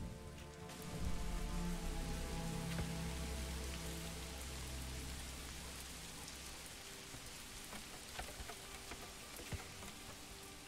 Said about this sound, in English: Rain's a little bit more gentle now.